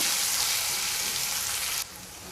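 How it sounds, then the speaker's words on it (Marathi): Kohlrabi and garlic sauté in a hot pan with a steady, close, bright sizzle that drops sharply in volume just before the end. "आता आपण छान असं परतून घेऊया"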